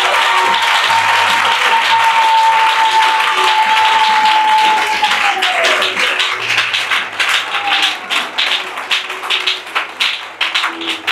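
A church congregation applauding Jesus, loud sustained clapping from a crowd that gradually breaks into rhythmic, unison claps toward the end, with a held tone and low hum beneath.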